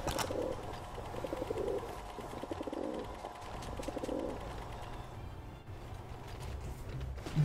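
A pigeon cooing nearby in a few soft, repeated bursts over a faint mechanical background, with no talking.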